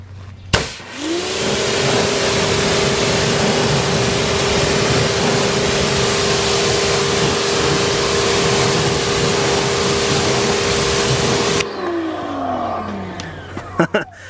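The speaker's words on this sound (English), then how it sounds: "Now let's go ahead and rinse it off." Gyeon Wet Coat is rinsed off a car with water: a steady, loud hiss of spray with a constant motor-like hum runs for about eleven seconds, then cuts off.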